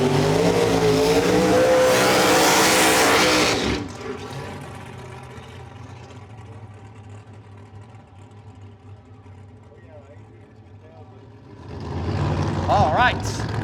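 Drag race cars at Famoso Dragstrip, a loud, harsh engine roar for a few seconds, then a quieter idling rumble with talk over it, and a second loud burst of engine noise at the end.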